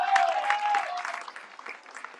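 Spectators at the San Giacomo ground in Sicily applaud a substituted football captain during an amateur Promozione league match, with a thin, short burst of clapping that fades. A sharp whistle tone sounds near the start.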